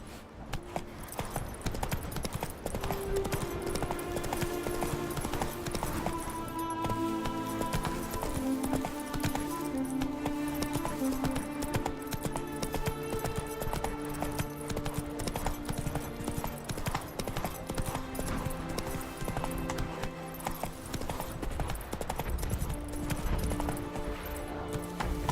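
In The Witcher 3, the horse Roach gallops with steady, rapid hoofbeats that clip-clop close and continuous over a layered music score.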